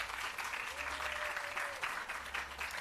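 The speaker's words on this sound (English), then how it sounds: "can I get a round of applause to the BSJ?" An audience gives a steady round of applause at a public relations campaign launch event for the BSJ, dense clapping that holds throughout with a faint voice tone drifting beneath.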